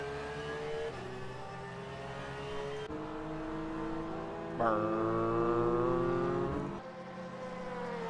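GT3 race car engines roar in a sim racing game at Imola, a pack of cars running close together with steady, loud engine notes that rise and shift between gears.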